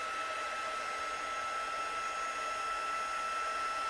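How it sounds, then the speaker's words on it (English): A craft heat tool blows hot air in a steady, even rush, loud and close, alone without talk. "with our heat tool."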